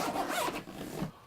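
Two zippers on the back of a Caribee Fast Track 45 bag are pulled down in a quick, close scratchy run, with no voices.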